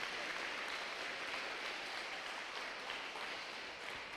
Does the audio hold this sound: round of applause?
yes